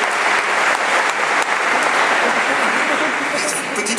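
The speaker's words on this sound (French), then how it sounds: "Et en même temps, on applaudit." An audience applauds a chef receiving a gastronomy trophy at an award ceremony, dense steady clapping filling the room, loud and close, with a voice faintly mixed in.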